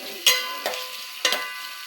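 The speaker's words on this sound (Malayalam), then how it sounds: "നമുക്ക് തക്കാളി ആഡ് ചെയ്യാം. നന്നായി വഴറ്റി കൊടുക്കുക." Tomatoes sauté in oil in a pan, stirred with three short scraping strokes over a faint sizzle in an otherwise quiet kitchen.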